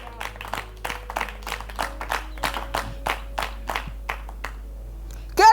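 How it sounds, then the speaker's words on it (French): A church congregation claps for the Lord in a steady, even rhythm, about a dozen close, sharp claps in a row, over a faint hum, ending with a louder burst. "Acclamons pour le Seigneur."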